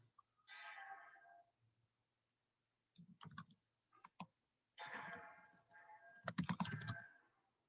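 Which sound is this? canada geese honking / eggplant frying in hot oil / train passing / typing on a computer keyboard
typing on a computer keyboard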